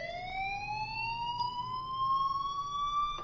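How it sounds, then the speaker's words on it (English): A fire alarm wails in the video game Life is Strange, a single steady electronic tone slowly rising in pitch, loud and close, with a faint background hum and no talk over it. "do you hear that fire alarm? That means you should be outside."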